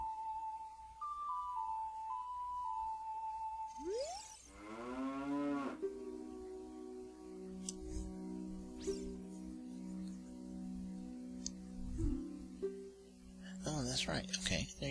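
A cow moos loudly in Zelda: Ocarina of Time, a long drawn-out low call over soft game music and chiming tones, with a voice speaking quietly alongside.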